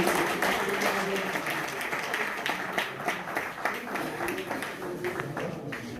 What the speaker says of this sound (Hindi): तालियां एक बार, जोरदार तालियां प्लीज।